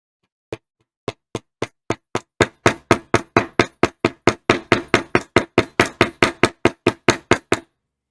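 A hammer strikes leather being worked into a card holder, a single tap followed by a steady run of about twenty-five sharp, evenly spaced knocks that grow louder, close and alone.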